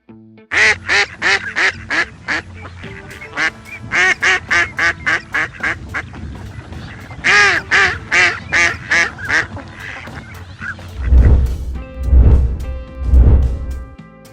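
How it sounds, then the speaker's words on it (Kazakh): A duck quacks in rapid, repeated bursts, pausing between runs, and ends with a few deeper, louder honking quacks. "Үйрек."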